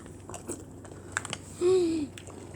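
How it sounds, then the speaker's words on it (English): Cheerios cereal eaten with milk: soft, close crunching and chewing in scattered bursts, with a short hum-like voiced sound partway through and quiet room tone between. "Cheerios. That's what Grandpa eats."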